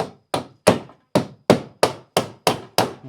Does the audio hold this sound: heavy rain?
no